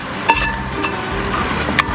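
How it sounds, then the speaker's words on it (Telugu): Seabass pieces frying in a pan, a loud, close, continuous sizzle with a couple of faint clicks over the two seconds. "ఇలా మంచిగా ఫ్రై అవ్వాలన్నమాట."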